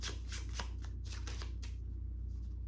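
Tarot cards shuffled by hand in a quiet room, a run of quick riffling bursts followed by softer sliding, close and fairly faint over a steady low hum, with no talking.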